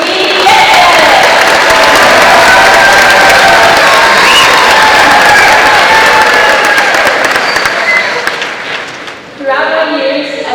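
Loud crowd applause and cheering for the class of 2026 at Kenmore West High School's commencement, a sustained roar of clapping and shouts that fades toward the end before a brief swell.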